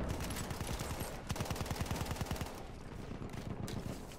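Rapid automatic gunfire in the World War I shooter Battlefield 1, steady bursts of closely spaced shots running through most of the stretch under dense ambient battle noise.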